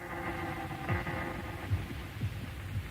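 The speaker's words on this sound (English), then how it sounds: "That sound. Uncanny. It's like a heartbeat." An uncanny, heartbeat-like throbbing pulses low and steady under a constant drone, with soft thuds recurring about every second in an eerie sci-fi drama, no voices present.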